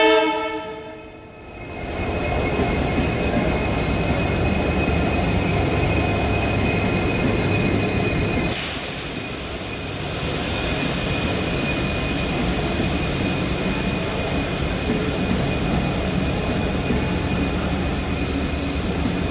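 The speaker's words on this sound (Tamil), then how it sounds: "டீசல் என்ஜின் தான் போய்கிட்டே இருக்குது." A diesel locomotive hauling a goods train rolls past close by on the line to Vasco da Gama near Dudhsagar Falls, a steady loud rumble of engine and wagons with a brief horn at the start, continuing without any talk.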